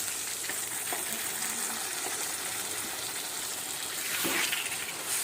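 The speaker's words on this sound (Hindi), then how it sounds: "यहाँ पे जी थोड़ा सा पानी ऐड डालूंगी मैं तकरीबन 2 टेबलस्पून" Steady close sizzling comes from potatoes frying in a pan after about two tablespoons of water go in with turmeric, a dense continuous hiss with faint stirring scrapes.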